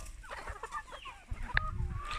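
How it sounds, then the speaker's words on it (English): Several chickens cluck and murmur close by, with soft scratching and a brief sharp squawk partway through. "So the chickens are going to eat that now."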